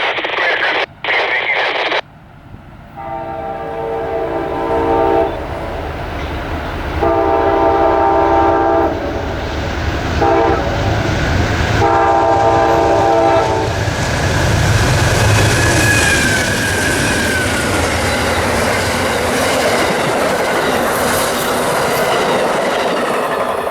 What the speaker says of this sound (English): Enjoy these mighty Genesis locomotives while you still can, before they get taken over by the Chargers